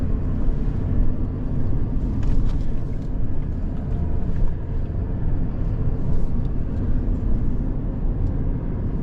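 A Toyota Land Cruiser 300 Series crawls out of a sand bog under crawl control, its engine a steady, heavy low rumble heard from inside the cabin, constant throughout with faint ticks above.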